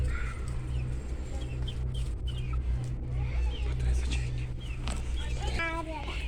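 A lame chick lets out a short, high chirp near the end, heard over a steady low hum and people talking.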